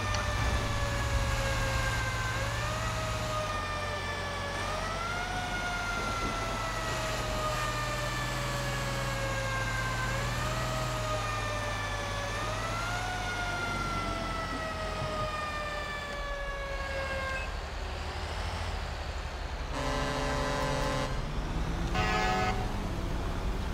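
A wailing fire engine siren in GTA 5 rises and falls in repeated sweeps over a low vehicle engine rumble, loud and steady, ending with a few short horn blasts.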